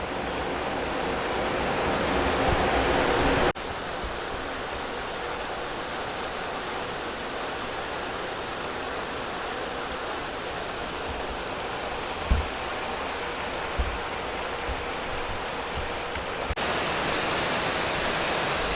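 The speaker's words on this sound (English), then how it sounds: "all the flow from the plant leaves here, and this is where it is returned to the Cuyahoga River" Treated water from a water reclamation plant pours from an outfall into the Cuyahoga River, a steady, loud broadband rush with a brief shift in level near the start and a couple of faint knocks.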